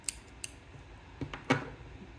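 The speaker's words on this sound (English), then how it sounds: "My handy dandy collapsible scissors." Compact collapsible scissors handled at a desk during a stationery setup, giving a few sharp, quiet clicks and snips spaced out over about two seconds with no talking.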